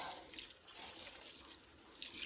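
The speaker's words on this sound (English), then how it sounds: "watering in the hole, especially when it's hot" Water pours steadily into a planting hole dug for lemon balm, a faint, close, continuous gurgling splash with no voices.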